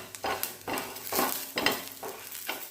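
Peppercorns and coriander seeds dry-roast in a pan, with a rhythmic series of scraping stirs about every half second over a soft sizzle, heard up close with no voices.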